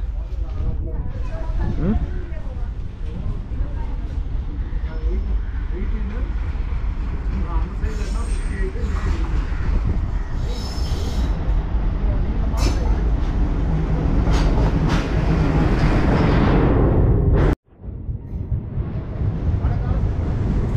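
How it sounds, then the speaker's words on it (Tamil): The Kollam Express, hauled by an Alco diesel locomotive on the Punalur to Chennai line, rumbles in with a steady low drone and clatter over about twenty seconds, with a voice talking over it throughout. "நம்ம ட்ரெயின் வராமல் பாருங்கள், டீசல் லோக்கோவில்."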